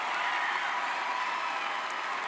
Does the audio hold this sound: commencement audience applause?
yes